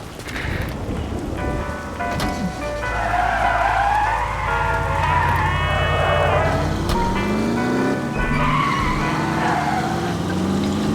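A car in The Saboteur drives and skids, the engine rumbling steadily while tires screech in drawn-out sweeps, with a musical score and ambient rain-like hiss running underneath.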